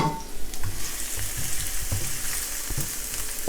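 Onion, garlic and ginger sizzle in hot oil for a tomato fish soup, a steady close crackle with a few soft stirring knocks, no talking.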